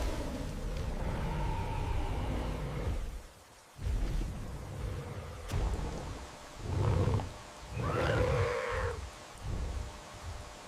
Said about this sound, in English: The roar of the heavy rainfall is now the only sound, a constant, powerful presence.